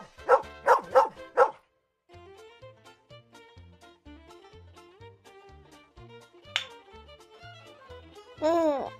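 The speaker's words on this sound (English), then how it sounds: "Dog." A dog barks four times in quick succession, followed by a soft repeating musical backing and a final whimpering yip.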